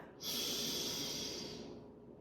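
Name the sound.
energizing breath work, breathing in and holding at top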